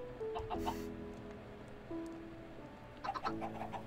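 Chickens clucking in the game Forgecraft, with a few short, soft clucks rising and falling in rapid bursts, fairly faint and spread across a few seconds with no talking.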